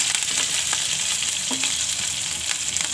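Mustard seeds, garlic and chili fry in hot oil for chivda, making a close, steady sizzle with faint crackling pops throughout.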